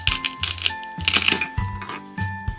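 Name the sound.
toy knife cutting toy bread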